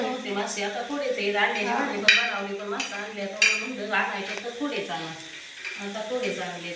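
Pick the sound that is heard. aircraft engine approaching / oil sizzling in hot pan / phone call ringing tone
oil sizzling in hot pan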